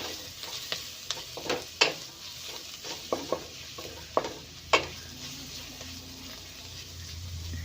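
Spoon scraping and stirring red chili powder into noodles in a pan, with a steady frying sizzle underneath and several sharp metallic clinks spaced irregularly, close and fairly loud, no voices.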